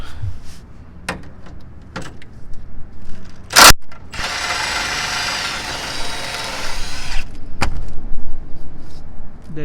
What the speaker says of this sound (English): And now I'm just going to remove the other two bolts.